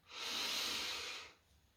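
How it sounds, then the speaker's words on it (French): A long, steady breath drawn in through the nose, close and airy, lasting about a second before fading into quiet. "Je prends une grande respiration par le nez"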